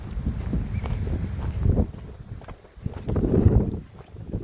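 Wind gusting across a mountain trail on the GR10 between Mont-Louis and the Carança, buffeting the microphone in rumbling surges that rise, drop briefly and return strongly.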